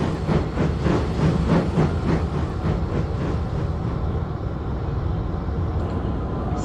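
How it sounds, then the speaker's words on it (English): The Flying Scotsman locomotive pulling out of the yards with an express train; a rhythmic chuffing beat, loud and close at first, settling into a steady rumbling roll without voices. "Scotsman soon left out of the yards with his express train."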